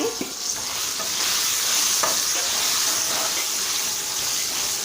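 Steady sizzle of hot oil with soft stirring and scraping strokes as cashews are mixed through a tempering off the heat, close up and continuous.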